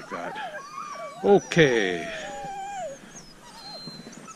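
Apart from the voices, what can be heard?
sled dogs whimpering and yipping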